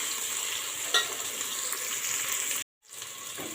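Rice and vegetables sautéing for mushroom biryani give a steady sizzle with occasional stirring scrapes, broken by a brief silent gap near the end before the frying noise resumes.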